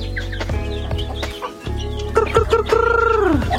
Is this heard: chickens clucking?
yes